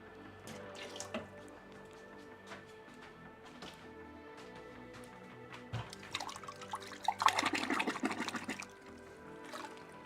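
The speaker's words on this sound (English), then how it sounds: "I'm going to add a little bit more water to this and then we're going to measure it again" Water drips and trickles into a ceramic glaze mix, with scattered small splashes that build into a brief steadier pour near the middle, fairly faint and close.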